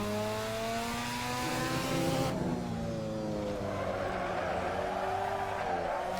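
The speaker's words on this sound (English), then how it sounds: "the rotary can take a little over rev" A rotary-engined car in Assetto Corsa on the Nordschleife screams at high revs with a sustained, rising engine whine, then cuts into a harsh tire skid and squeal, loud and continuous throughout.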